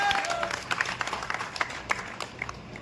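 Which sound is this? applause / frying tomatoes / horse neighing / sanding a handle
applause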